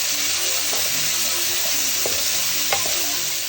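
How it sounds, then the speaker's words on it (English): Onion and garlic frying in a pan for a lamb samosa filling, a steady close sizzle with a few soft scrapes and clicks of stirring over the constant hiss. "So we need to cook this until the onion and garlic has gone nice and golden brown."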